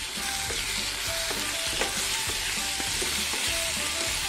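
Turmeric powder being stirred into a frying mixture for a prawn-stuffed string hopper filling, with a steady close sizzle and repeated soft scraping strokes of a spoon throughout.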